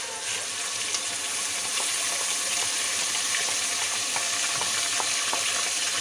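Browned onions going into a pan of mutton kofta curry base with ginger-garlic paste, a constant close sizzle and hiss overlaid with light, irregular clicks and taps of stirring, steady in loudness throughout, no one speaking.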